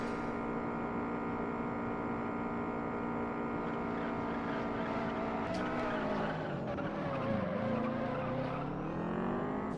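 A racing car engine in the game Juiced drones steadily at high revs, its pitch dipping and climbing as it shifts and takes a corner, loud and continuous with no talk.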